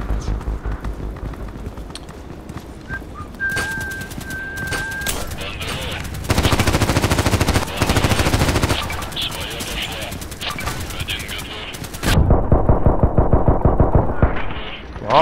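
Rapid automatic gunfire crackles in Contract Wars, long dense bursts of close, loud shots with short pauses and a final heavy burst.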